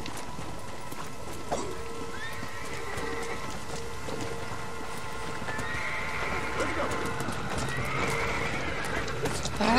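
A flaming horse in Red Dead Redemption: Undead Nightmare whinnies repeatedly over steady clip-clopping hooves, with a voice talking underneath and constant game ambience throughout.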